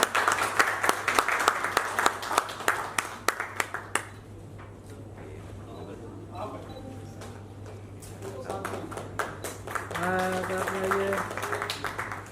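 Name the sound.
audience applause welcoming a film producer on stage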